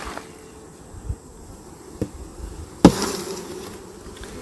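Honeybees drone steadily around an open hive during a post-harvest Apiguard mite treatment, with a few sharp knocks and one louder bang from hive equipment sounding close over the buzzing.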